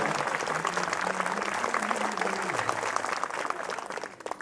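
Applause at a Hindi comic poetry gathering (hasya kavi sammelan), a steady wash of many hands clapping throughout, with a faint voice briefly audible underneath.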